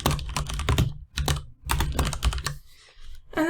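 Keys clatter on a computer keyboard in quick bursts separated by short pauses while a quiz description is typed, close and crisp with no talking.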